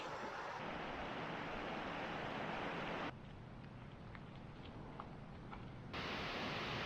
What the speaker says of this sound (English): A beautiful rockside waterfall here that opens up into nice long range views as well.